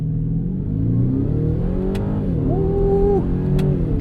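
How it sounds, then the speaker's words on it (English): 2024 Ford F150 Raptor R, a 720-horsepower truck, making a light launch: a steady, loud engine drone rises in pitch as it accelerates, with a couple of brief clicks, heard close from inside. "So let us do a light launch."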